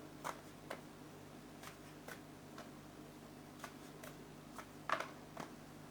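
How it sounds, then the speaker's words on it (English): A deck of cards is shuffled several times at intervals, producing brief, quiet riffling ticks and one sharper burst near the end, set against a low steady hum in a quiet room. "just shuffle these cards."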